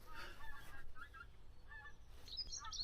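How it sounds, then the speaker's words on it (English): Faint, distant honks of geese calling sporadically outdoors in early spring, heard over a quiet background. "I can hear geese, but I can't see them."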